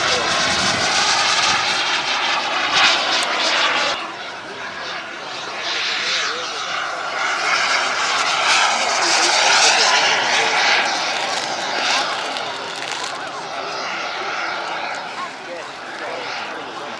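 A display aircraft's engine drones loudly as it comes back for an upwind low pass at the East Kirkby airshow, swelling and easing slightly as it passes, with a commentator talking over it.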